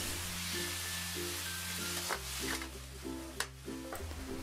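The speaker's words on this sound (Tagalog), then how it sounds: "Igisa na rin natin tong hiniwang kamatis hanggang lumambot." Sliced tomatoes sautéing with garlic and onion in a pan for ginisang tahong, a steady soft sizzle with a few clinks of a utensil against the pan.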